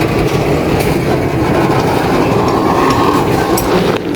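A freight train hauled by two 2000 horsepower diesel locomotives working in multiple in Pakistan rolls past close by, a loud, continuous rumble of wheels and wagons with rhythmic clatter and engine drone.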